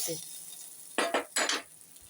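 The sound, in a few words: tempered mustard seeds poured into capsicum chutney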